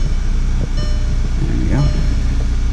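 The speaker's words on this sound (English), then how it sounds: "Alright, letting out the clutch." A Mk6 Volkswagen GTI with a newly fitted Ringer Racing Stage 4 clutch pulls away in first gear, its engine a loud, steady low drone close to the cabin, with a person talking over it.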